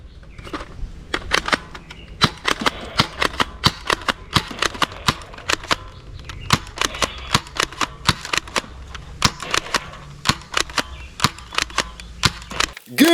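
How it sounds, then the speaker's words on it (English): A toy gel blaster gun fires in rapid, irregular bursts of sharp snapping clicks at close range, with brief pauses between volleys over a faint background. "Super gel blaster gun!"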